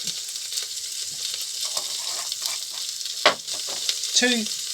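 Ground coriander sizzles in a frying pan while pork mole cooks, a bright continuous close frying hiss with stirring scrapes and a couple of small clinks near the end, no talking.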